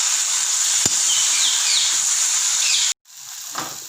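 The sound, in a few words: tomatoes sautéing in pan for fish curry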